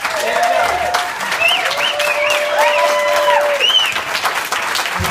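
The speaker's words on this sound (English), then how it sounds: "Linda Verone and Linda Thompson, and we can round of applause for them" An audience at a roast breaks into a sustained round of applause, dense clapping mixed with whoops, whistles and cheering voices, loud and continuous throughout.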